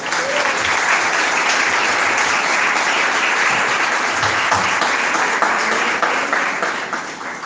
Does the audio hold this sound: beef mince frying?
no